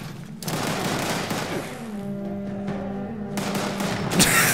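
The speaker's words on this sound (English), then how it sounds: "God, I love Nuka grenades." Nuka grenades explode in Fallout 76, a rapid rattling burst of blasts followed by a sustained ringing hum and a final booming crack.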